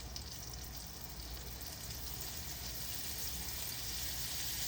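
A small batch of onion rings frying in hot oil over lowered heat, a dense, even sizzle and bubbling crackle that runs steadily and close throughout, alone without voices.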